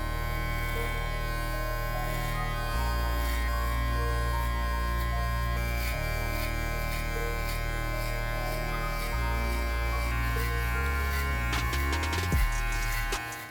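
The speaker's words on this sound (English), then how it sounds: "we're gonna go 1 guard, lever open." Electric hair clippers with a 1 guard, lever open, run continuously at close range while cutting a fade, a loud steady buzz whose pitch shifts slightly as the blades move through hair.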